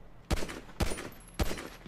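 Gunfire in the GTA video game, three sharp, loud shots at a steady rhythm about half a second apart, each with a short echoing tail.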